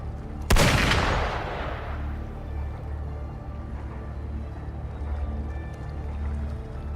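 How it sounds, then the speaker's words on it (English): A single loud gunshot in the video game Wuthering Waves cracks out near the start and rings away into a lingering echo, leaving a steady low ambient rumble with no talk. "Gunfire! We've got intruders."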